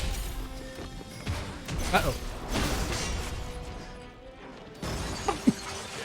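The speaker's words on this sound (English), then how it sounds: "I like how my smashes are so big they can cause the... Oh, didn't quite block in time. They can cause the chandeliers to fall" Heavy smash attacks in Stranger of Paradise land with crashing thuds, and chandeliers come down with metallic clangs and impacts amid game effects, while a voice briefly speaks.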